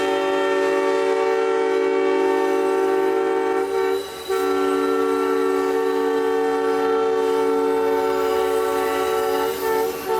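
A model locomotive horn, an off-sounding Southern Railway M5 short on air, on a BLI Aberdeen Carolina & Western F9A, sounding a loud continuous chord with a brief dip in the middle and no talking.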